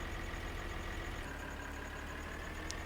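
A tractor engine idles steadily in Farming Simulator 2013, a low continuous hum with a faint mechanical drone, heard alone at moderate distance with a brief high click near the end.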